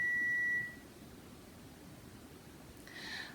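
A loud, steady electronic beep holds at a single pitch, then cuts out. Faint hiss follows, and a softer tone returns near the end.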